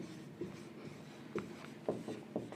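Writing on a board during a physics class on resistivity, soft scratching and tapping strokes in short bursts, with several distinct strokes spaced irregularly, quiet and close with no talk.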